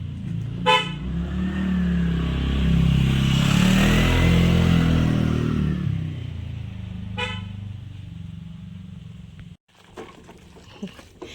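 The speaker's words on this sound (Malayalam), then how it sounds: "എന്തായാലും ആ വണ്ടി പോട്ടെ. ആ വണ്ടി പോയിട്ട് നമുക്ക് പോവാട്ടോ." A road vehicle rumbles past close by, rising to a loud, broad roar and then fading, with short horn toots just before it arrives and again after it passes.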